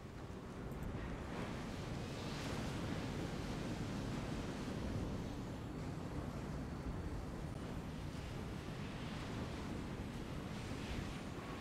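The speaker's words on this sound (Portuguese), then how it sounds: "Olha esse mar." Sea waves wash continuously along the shore in the video game Enslaved: Odyssey. The surf is a soft, even hiss with no distinct breaks, and nobody speaks.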